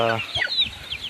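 Short, close clucks from free-range country chickens with a brief harmonic call at the start, then scattered soft chicken noises.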